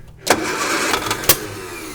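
A 1955 Nash Metropolitan barn find cranks over after fuel is poured into its carburetor, giving a close, steady rough churning with a couple of sharp catches.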